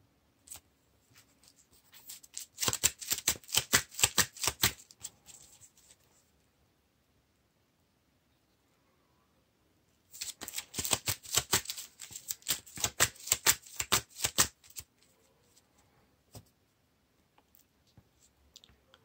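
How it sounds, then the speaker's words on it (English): Playing cards for a Lord of the Rings card game being shuffled into a deck: two close, quiet bursts of rapid riffling clicks a few seconds each, separated by a silent pause. "we have to shuffle the top card of the burden deck into the encounter deck"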